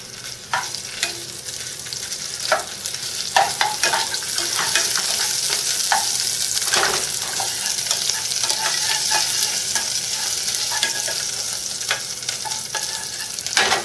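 A spoonful of spice is stirred into hot oil for a chickpea curry, giving a steady close sizzle of frying broken by scraping utensil strokes throughout.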